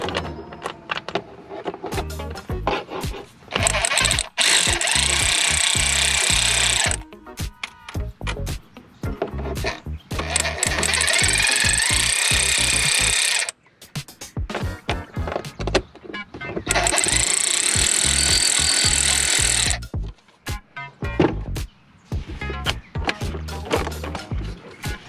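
A power tool removes clamps at the throttle body of a 2019 Nissan Titan, running in three long, loud whirring bursts separated by clicks, knocks and handling clatter close by.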